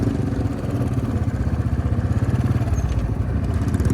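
Royal Enfield motorcycle fitted with a loud aftermarket silencer exhaust, its thumping single-cylinder beat throbbing steadily and close by, deep and rhythmic throughout with no talking.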